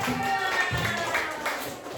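A group of villagers claps together during a community outreach gathering in Hajran village, moderately loud, uneven clapping with voices mixed in underneath.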